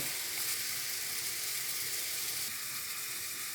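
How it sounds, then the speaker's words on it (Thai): A pot of water at a rolling boil with tamarind, two lemongrass stalks and a shallot just dropped in, giving a steady, close, sizzling bubble and hiss that runs unbroken throughout. "ต้มกันเลยนะคะ น้ำเดือดแล้วนะ ใส่มะขามลงไปค่ะหน่อยหนึ่ง"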